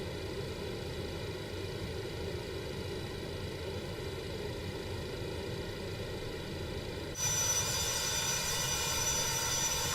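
Jet engines of a FedEx Boeing 727 roar at full thrust as a steady, heavy broadband rumble heard from inside, growing a little brighter and louder near the end.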